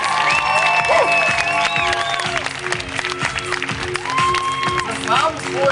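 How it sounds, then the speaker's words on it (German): An audience at a hair show applauds, with sustained clapping and crowd noise running throughout, mixed with an announcer's voice and some tonal background sounds. "dein Applaus!"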